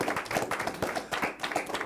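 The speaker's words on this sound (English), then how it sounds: "A round of applause," Applause from a small audience at a televised accountancy quiz show, a handful of distinct, fairly close hand claps in a quick, uneven rhythm with no talking.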